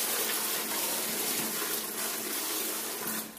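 Five gallons of water gush and splash steadily into main and storm drain lines, a continuous rushing pour that holds for several seconds before easing slightly at the end.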